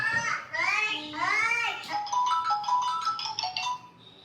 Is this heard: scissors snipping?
no